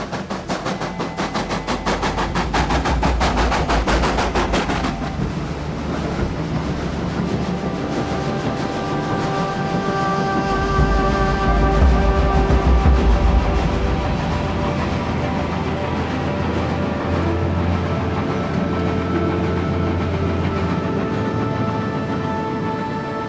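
A train rolls along rails with a loud, continuous rumble and rapid clatter of wheels over the track, the rattle thinning after a few seconds into a steady droning run with faint tonal whine, no voices.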